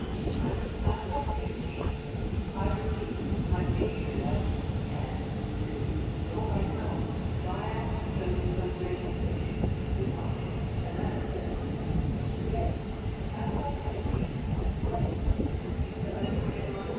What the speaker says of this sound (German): RE 10 nach Kleve macht sich auf den Weg.